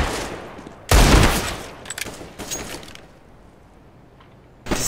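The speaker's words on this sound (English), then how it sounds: "This AK is so powerful." Rifle fire from an AK in the video game Counter-Strike: Global Offensive, a loud close burst of shots followed by a few scattered further shots and a last sharp shot at the end.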